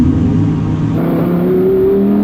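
An Audi R8 on winter tyres launches hard off the line in a drag race, its engine roaring loud and close with pitch climbing steadily as it accelerates.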